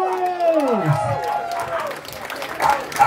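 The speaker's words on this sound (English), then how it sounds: "please give Andrew a round of applause" Audience at a chilli eating contest during an outdoor festival applauding and cheering a contestant, crowd noise mixed with a voice and scattered clapping, moderately loud throughout.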